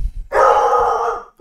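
A puppy gives a single sustained, high-pitched bark or yelp, close and loud, lasting about a second.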